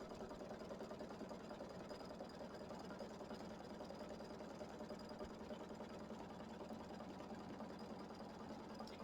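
An embroidery machine stitches tack-down lines through a Kimberbell mini quilt block and its batting, giving a steady, loud, continuous mechanical whir with a fast rhythmic stitching chatter throughout, with no talking.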